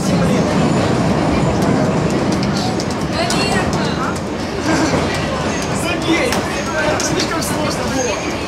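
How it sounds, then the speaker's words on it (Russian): Metro station on a staircase with a train rumbling and clattering through, dense rolling noise and rail clicks throughout, with people talking in the background. "Я на лестнице метро."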